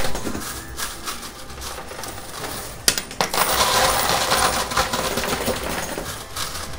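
Quarters clatter and jingle continuously in a high-limit coin pusher machine, a busy metallic patter of coins dropping and sliding, loud and close, with a sharper burst of clinks about midway and no voices.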